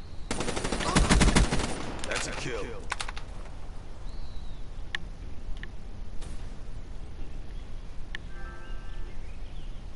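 Gunfire in the Call of Duty 3 video game: a loud, rapid automatic burst crackles for a couple of seconds, then a few scattered single shots ring out against a quieter battlefield background.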